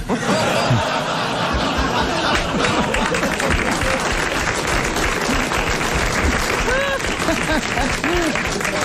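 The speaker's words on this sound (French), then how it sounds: "Merci pour ceux qui applaudissent les sœurs" An audience claps steadily throughout, mixed with chuckles and laughter, while a voice briefly rises over the crowd.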